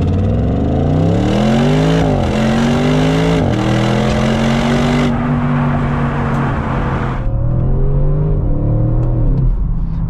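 A 2020 Audi RS6 Avant engine revs hard through rising gear changes, loud and close, with brief dips between gears before settling into a steady high drone.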